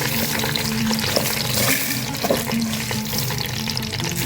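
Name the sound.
rice frying and being stirred in oil and butter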